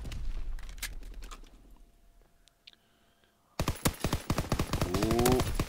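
PPSH-41 submachine gun fire in Call of Duty: WWII comes in loud bursts of rapid automatic shots. A quiet pause falls midway, then dense, near gunfire resumes with game sound effects over it.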